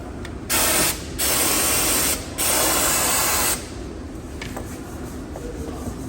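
Spray gun applying a coat of sealer in a high school body shop booth, three loud hissing bursts of about half a second, a second, and a second and a half, separated by pauses with faint clicks and background hum.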